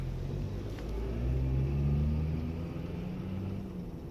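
A car drives off, a steady low engine rumble that swells slightly as it accelerates and then holds, fairly close, with no talking.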